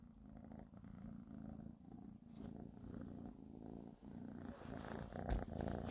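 A pet cat purrs steadily and close by, a low continuous rumble with a brief brighter knock near the end.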